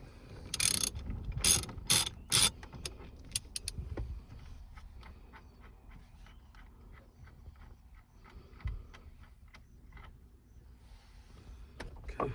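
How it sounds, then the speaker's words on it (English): A ratchet wrench with a 21 mm socket on an extension works loose the steering wheel nut of a Chevrolet S10, giving a loud run of quick clicks at first, then sparser, fainter clicks and handling noises. "you got the 21 millimeter, got a little extension. Go ahead and take the nut off."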